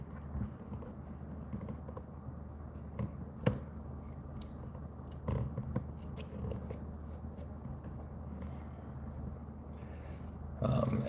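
Small scissors snip fly-tying hackle at the tying vise, a few sparse quiet clicks and cuts scattered over a low steady background, with no one speaking.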